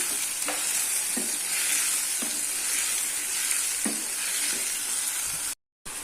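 Tomatoes sauté with salt in a pan for a chana dal kootu, giving a steady close sizzle broken by several soft stirring scrapes and one brief dropout near the end.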